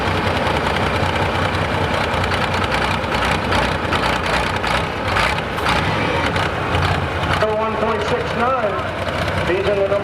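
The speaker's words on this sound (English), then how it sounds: "So now we've got a bunch of John Deere County tractors duking it out." John Deere tractors roar at a tractor pull, a loud, continuous low engine drone with knocking texture that holds throughout, with an announcer talking over it.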